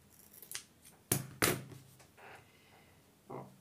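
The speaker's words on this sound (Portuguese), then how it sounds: "E vou cortar aqui." Scissors snipping through paper while cutting out pieces for a Tinker Bell craft: several crisp, close cuts, two strong snips in quick succession, then a softer one after a pause.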